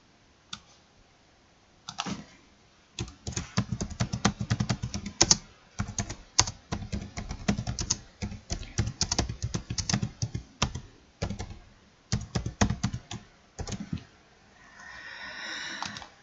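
Someone types on a computer keyboard in steady, close clattering bursts of keystrokes, broken by short pauses, for about sixteen seconds with no talking.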